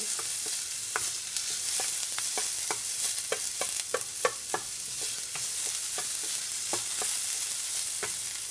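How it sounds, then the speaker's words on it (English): Onions and garlic fry in a pan with a steady bright sizzle, broken by frequent sharp scraping clicks of stirring at an uneven rhythm, close and moderately loud, with no voices. "And you just want the onions to slightly brown. And I put in the onions with the garlic so that the garlic doesn't burn."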